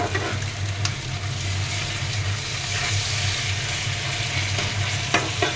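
Onions are frying in a pan with a loud, steady sizzle and occasional stirring scrapes, close up, accompanied by a low background hum.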